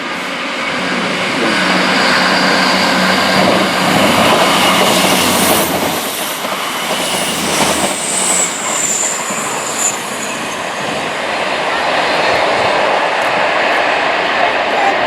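Trains pass beneath the Wimbledon footbridge with a loud rolling roar and rail clatter. A high wheel squeal rises midway, and the noise swells and fades as the trains go by.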